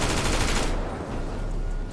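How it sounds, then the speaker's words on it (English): Automatic gunfire in a GTA 5 video game, a dense burst of rapid shots that stops abruptly partway through, followed by lower rumbling game sound. "What am I shooting at?"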